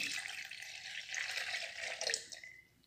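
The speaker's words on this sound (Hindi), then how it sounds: "मैंने यहाँ पे रख दिया और मैंने पानी को यहाँ डाल दिया ऐसे" Water pours steadily from a glass into an empty jar, a continuous splashing gurgle that fades out at the end, with no talking.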